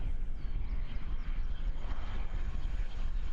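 ATR turboprop airliner landing at Christchurch Airport on a windy evening, a steady loud engine roar mixed with wind rumble that holds throughout, with no talking.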